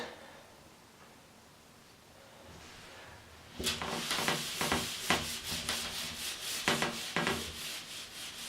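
After a quiet stretch, a pad scrubs back and forth against a surface in quick rasping strokes, loud and close, no voices.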